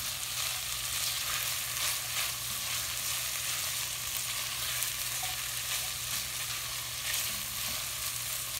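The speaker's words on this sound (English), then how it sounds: "I'm adding 4 cloves of fresh garlic, and I'm going to give it another stir." Four cloves of fresh garlic sauté over medium-high heat in a pot, giving off a steady, soft sizzle with occasional faint stirring scrapes, continuous and fairly quiet throughout.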